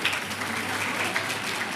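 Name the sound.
applause welcoming the team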